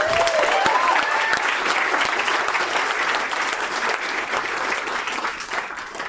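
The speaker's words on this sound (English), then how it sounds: "So round of applause for the parents, everyone." Guests at a rehearsal dinner applaud the parents with loud, dense clapping. A short whistle rises over it near the start, and the applause holds steady before thinning slightly.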